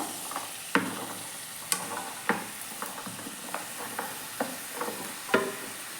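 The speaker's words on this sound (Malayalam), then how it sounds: "ഇനി അതിലേക്ക് മത്തൻ്റെ കഷ്ണങ്ങൾ ചേർത്ത് കൊടുക്കാം" Cut pumpkin pieces tumble into a pan and are stirred while frying, giving a steady close sizzle punctuated by sharp scrapes and knocks of the spoon at irregular intervals.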